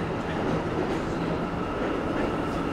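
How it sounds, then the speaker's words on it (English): Subway trains of the 8th Avenue line rumble beneath a New York City street, a steady low roar with faint rhythmic clatter, moderately quiet and continuous. "there's a subway that runs directly underneath us"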